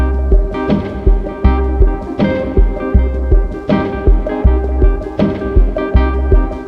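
A dense electronic track with a punchy kick drum thumping in a steady beat beneath bright, repeating synth notes, loud and continuous.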